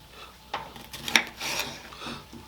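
A knife dicing red peppers on a board for a frittata, a few soft, scraping cuts and taps spaced irregularly, close and quiet with no talk.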